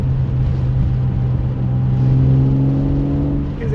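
Jaguar E-Type Reborn restoration engine revving while driving, a loud, steady mechanical drone whose pitch climbs smoothly as the car accelerates, heard from inside the cabin.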